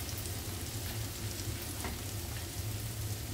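Onions and dry spices fry in a pan with a constant close sizzle and soft crackle, steady throughout with no talking.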